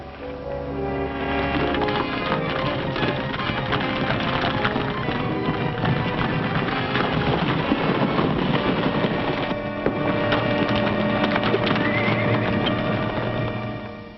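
Horses gallop and whinny in an old 1941 western film scene, the hoofbeats and neighs packed into a dense, steady wash of action sound under orchestral score for the whole stretch.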